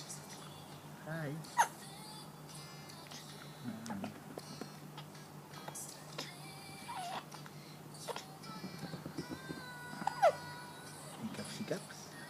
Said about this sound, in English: Hiccups. Hiccups.